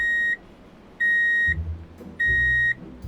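Three loud, steady electronic censor beeps, each about half a second long, spaced about a second apart with muffled background sound between them.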